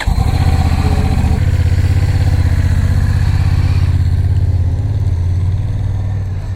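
A Honda Rebel 1100 DCT motorcycle rides past with a loud, close, steady engine rumble that barely changes pitch, then eases off slightly toward the end.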